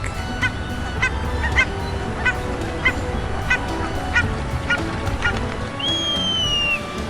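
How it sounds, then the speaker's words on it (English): A duck calling, a loud run of honking quacks at a steady pace, close, then one higher drawn-out note near the end, with no talk. "D is for duck."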